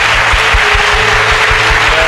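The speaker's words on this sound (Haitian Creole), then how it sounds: "Applaudissez mon Dieu pour ça." An audience at a church gathering applauds with loud, continuous clapping that holds steady throughout, with faint rhythmic low thumps beneath it.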